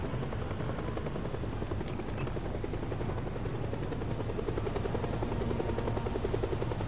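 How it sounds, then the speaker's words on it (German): Steady, continuous video-game helicopter rotor drone with dense low thudding that fills the whole stretch at a constant loud level, with no talking. "jetzt hört man eigentlich nur dieses Rotorengeräusch"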